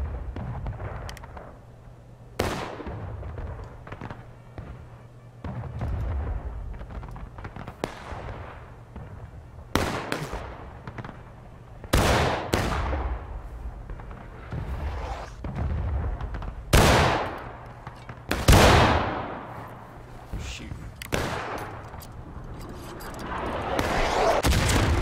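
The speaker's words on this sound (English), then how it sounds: "Artillery is really close to us. Artillery is random, but it can kill you." Sharp, loud booms and cracks of artillery fire and musket gunfire sound at irregular intervals in the War of Rights battlefield game, some reports near and heavy, others more distant, over a constant low rumble.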